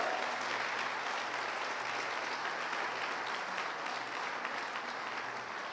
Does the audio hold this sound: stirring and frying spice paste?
no